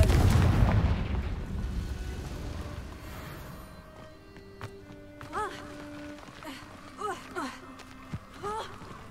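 A Confringo blasting spell from Hogwarts Legacy opens as a heavy boom that decays slowly, followed by scattered footsteps, small chirping effects and faint ambient tones.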